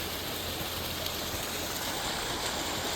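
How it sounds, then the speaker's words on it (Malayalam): Constant rushing, splashing water from a small waterfall, a steady broad roar with no pauses or voices. "ഇതാ കണ്ടോ, ഈ വെള്ളച്ചാട്ടമാണ് പറഞ്ഞത്."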